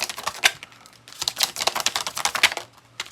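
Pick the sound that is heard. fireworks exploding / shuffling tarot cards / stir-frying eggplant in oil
shuffling tarot cards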